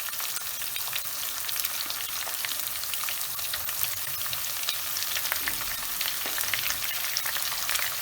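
Sliced onions fry in hot oil for tomato potato pulao, a dense, steady sizzle with fine crackling and spitting throughout, close and continuous with no voices.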